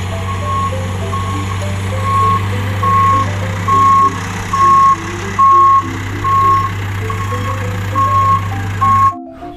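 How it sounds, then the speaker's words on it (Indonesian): A dump truck idles with a steady low engine drone while its reversing alarm beeps loudly at a regular pace, about ten evenly spaced beeps, before the sound cuts off abruptly. "Di sini ada mobil dump truk."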